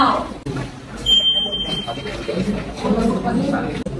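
A timer sounds a single sustained high electronic beep lasting about a second at the start of a timed classroom activity, heard under a teacher talking to students.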